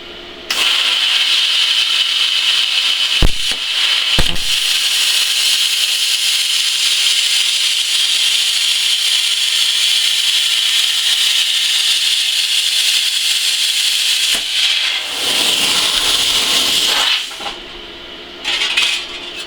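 A Cut 50 plasma cutter slices through thin 24 gauge sheet metal, producing a loud, continuous hissing buzz that runs almost unbroken for many seconds, with a few brief interruptions, before cutting off near the end.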